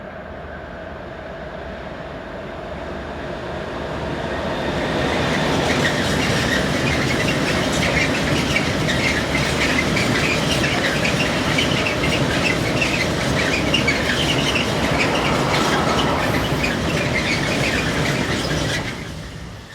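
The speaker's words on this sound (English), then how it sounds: "Veolia Cargo 146519 approaches the camera with a northbound tank train." Veolia Cargo locomotive 146519 hauling a northbound tank train rumbles steadily closer, swelling to a loud sustained roar with rhythmic wheel clatter before easing slightly at the end.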